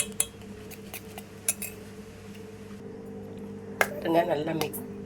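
Eggs broken into roasted gram powder are stirred together with metal utensils, giving scattered clinks and a burst of scraping near the end, close by and moderately loud over a steady background hum.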